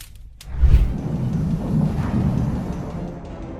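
Thunder booms through a stormy night, a heavy low crack followed by a long rolling rumble that lingers at steady loudness, with a faint hiss of rain beneath.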